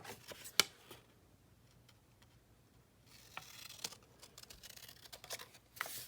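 Scissors snip through paper coupons for a botanical junk-journal collage, a few faint, quiet clicks and crisp cuts spread across a near-silent room.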